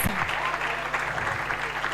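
Audience applause after a panel moderator is introduced at a digital governance event, a steady wash of clapping filling the hall for about two seconds.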